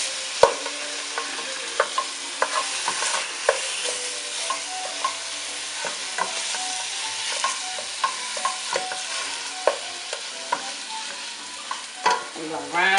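Ground beef frying in a pan for chili beans, broken up with repeated scraping and stirring strokes over a steady close sizzle, with sharp spatula clicks against the pan.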